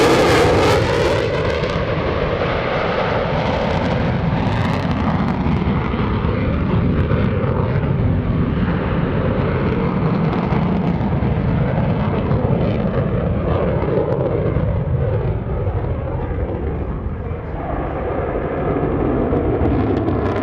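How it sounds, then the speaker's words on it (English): Boeing F/A-18F Super Hornet jet roaring through a pitch rate demonstration at the 2017 NAS Oceana airshow, a loud sustained rumbling jet engine roar that swells and shifts in tone, filling the whole stretch without speech. "one more pitch rate demo here, Rob, to get themselves set up for their next maneuver"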